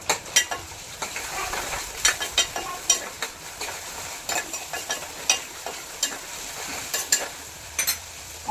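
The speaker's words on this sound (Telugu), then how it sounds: "ఆనియన్స్ మగ్గుతున్నాయి" Sliced big onions with curry leaves fry in hot oil, giving a steady sizzle broken by repeated sharp clicks and scrapes of stirring in the pan, with no voices.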